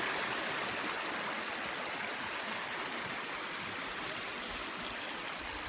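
A stream rushes steadily around a small Kubota utility vehicle stopped midway through the water, a constant broadband wash with no voices.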